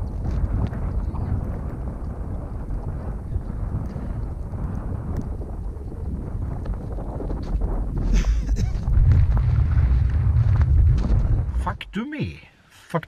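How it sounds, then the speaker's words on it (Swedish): Strong wind blasting across open snowy ground while out sledging, a continuous buffeting roar against the microphone that swells louder toward the end before a sudden drop and a few gusty bursts. "det blåser så mycket här ute så att det är som att vara i Sibirien"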